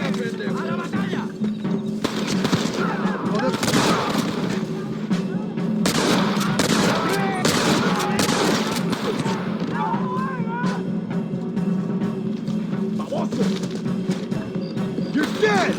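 Gunfire crackles through a Red Dead Redemption battle, with repeated loud shots and bursts going off continuously while several voices shout over the fighting.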